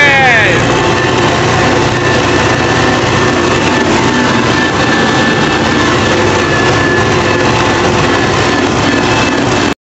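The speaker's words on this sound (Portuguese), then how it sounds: "peguemos um trator aqui emprestado" A borrowed farm tractor engine runs close and loud, a constant dense mechanical drone that holds steady without pause.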